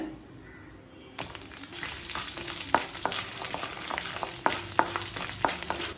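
Urad dal, chana dal and garlic frying in oil for a hotel-style kara chutney, a steady crackling sizzle that starts after a quiet second, with sharp stirring scrapes and pops recurring throughout, close and fairly loud.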